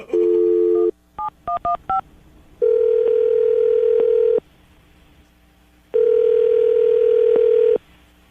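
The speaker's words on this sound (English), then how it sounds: "I'm going to dial the phone number right now, see if we can get her on the phone" A telephone being dialed to call back a radio caller: a short burst of DTMF keypad beeps followed by two long, loud ringback tones separated by silence.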